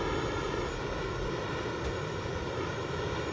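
A small jet aircraft in the video game Call of Duty Mobile hums with a steady, faint engine drone, constant and unbroken with no voices over it.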